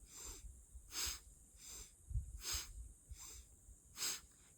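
Rhythmic, forceful breaths from a Kundalini breathing exercise, sharp nasal pulses roughly once per second, close and fairly quiet, with no talking.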